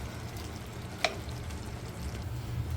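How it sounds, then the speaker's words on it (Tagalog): Dried anchovies frying in a pan give a soft, steady sizzle with a single clink of a utensil against the pan partway through. "nagluluto na ako ng dilis para naman ito dun sa okra"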